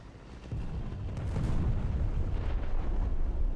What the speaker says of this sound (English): the bombs, they still have a lot of volume on the sound